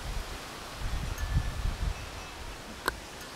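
Strong April wind gusts through garden trees, a continuous low rumbling rush with swelling surges in the middle and a brief sharp rustle near the end, no voices.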